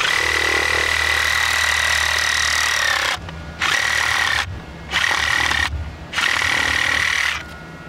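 Sawzall reciprocating saw cutting buried plumbing pipe in a ditch outdoors, a loud steady high buzzing that runs in bursts, stopping and restarting several times in short pauses.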